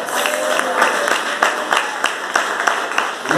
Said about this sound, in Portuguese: Aplauda o nome do Senhor Jesus aí.